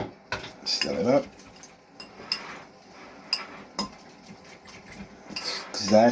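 Cacio e pepe cheese sauce being stirred in a bowl, with close, clattering utensil scrapes and clinks in uneven strokes, a few louder knocks standing out.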